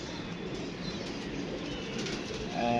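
Pigeon sounds close by, with soft cooing and a burst of wing flapping near the end, steady low background and no talk.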